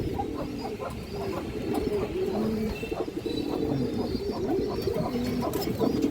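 Pigeons of an old breeding line, kept as breeders and flyers at a home loft, coo steadily nearby, their soft repeated low calls overlapping in a continuous rhythmic murmur with faint chirps above.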